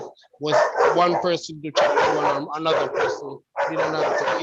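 A dog barks in the background of an online research meeting, its sound mixed under steady, near-continuous talk from a participant.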